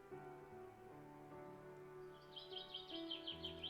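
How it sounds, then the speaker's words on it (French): Faint, high bird chirps come in short repeated bursts over a steady low hum in a cemetery, growing clearer toward the end. "Des oiseaux"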